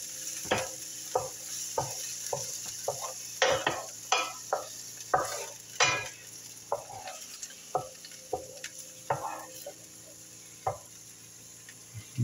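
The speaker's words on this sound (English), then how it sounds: "I'm just going to cook these peas and carrots down for a few minutes" Peas and carrots for chicken fried rice cooking in a pan, with a steady low sizzle under a dozen or more sharp clacks of a utensil stirring and scraping against the pan, near and fairly loud, no talking.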